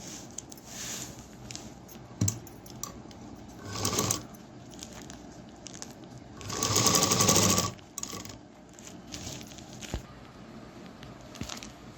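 A sewing machine stitching a strap onto a shopping bag made from an old gown, with short rattling runs of stitching, one longer loud burst, and softer handling clicks between them, close by and without talk.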